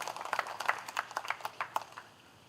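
Scattered, faint claps for an orchestra at a virtual charity concert, a few hands beating in a quick uneven rhythm before fading away after about two seconds.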